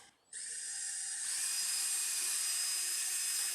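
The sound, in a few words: drill drilling holes for desk hinges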